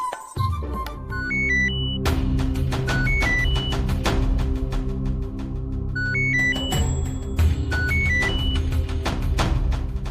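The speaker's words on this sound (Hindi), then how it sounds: "कनिका फोन" A phone ringtone plays loudly and close in a home scene from a Hindi TV drama: a repeating melodic electronic tune that runs for several cycles with a short pause between them.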